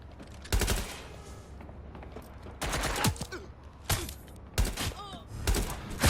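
Enemy gunfire in Watch Dogs Legion comes in several loud, sharp bursts spaced a second or so apart, with rapid automatic volleys and a groaning character voice between them.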